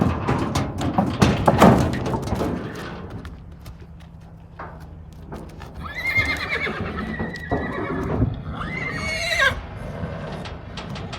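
Young fillies being unloaded from a trailer: hooves clatter and thump early on, then several loud, shrill neighs and whinnies ring out close by.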